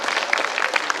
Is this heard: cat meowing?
no